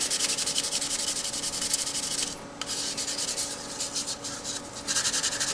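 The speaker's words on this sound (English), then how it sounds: "a coarse grit to finer grits. Yeah. And you're basically trying to just smooth out the surface as much as" Steady sandpaper rubbing across a surface, moving from coarse to finer grit, a continuous close scratchy hiss in rhythmic strokes with a brief pause in the middle.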